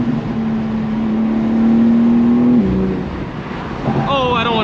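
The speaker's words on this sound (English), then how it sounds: "Bro, the turbos in this thing sound fucking crazy." A turbocharged BMW G87 M2 engine drones loudly and steadily, then its pitch drops before it revs up again with rising whine, while people talk excitedly over it during a backroad run.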